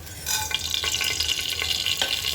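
Mustard seeds, chana dal and cumin crackle in hot oil inside a pressure cooker, a loud, dense sizzle with brief stirring scrapes, and no voices.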